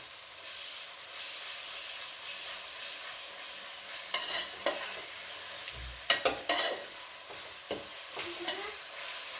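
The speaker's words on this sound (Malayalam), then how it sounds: "പച്ചമുളക് വെളുത്തുള്ളി ഇഞ്ചി പേസ്റ്റ് ഇട്ട് കൊടുത്ത് നന്നായിട്ട് യോജിപ്പിക്കുക" Green chilli, garlic and ginger paste stirred into hot oil for beef biryani, a steady sizzling hiss punctuated by scraping strokes of a spoon against the pan, a few sharper clinks midway.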